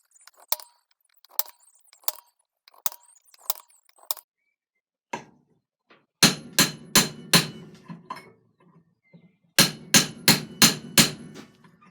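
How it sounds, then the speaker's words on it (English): Metallic hammer blows force-fit a steel guard into place in bursts: a few lighter taps, then two quick rapid series of heavy, loud strikes close by, with short pauses between. "then we force fit it back using the hammer method"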